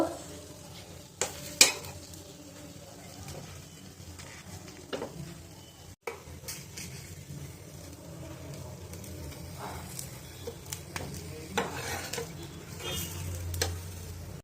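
A patishapta crepe with filling cooks in a pan, giving a quiet sizzle broken by scattered soft scrapes and taps of a utensil against the pan as it is flipped.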